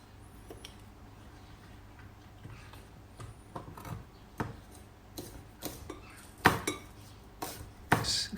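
A sharp knife lightly dices spring onions on a chopping board for fishcakes, producing faint, irregular taps that grow louder and quicker toward the end over a quiet background.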